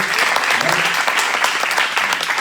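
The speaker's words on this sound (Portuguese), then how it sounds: "Você pode aplaudir o nome do Senhor Jesus." A church congregation bursts into dense, steady applause at an evening worship service, many hands clapping together close and loud for a couple of seconds, with faint voices mixed into the wash of claps.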